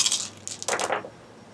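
A handful of dice rattle and clatter across a table during a Bolt Action tabletop wargame, a short burst of small hard clicks that quickly dies away.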